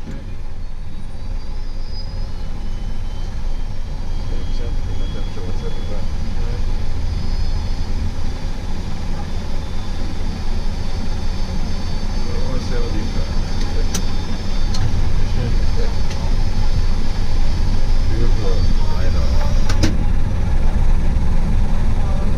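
A Saab 340 turboprop airliner on its takeoff roll, heard as a loud, steady engine drone that fills the whole stretch, with radio chatter underneath.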